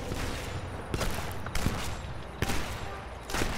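Rapid bursts of gunfire in the shooter video game Sniper Elite 4, several loud volleys separated by short gaps, with a continuous noisy battle background beneath them.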